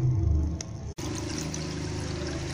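Water poured from a measure of about 200 ml into a bowl to make batter for lumpia wrappers, a steady close trickling pour with a brief break partway through.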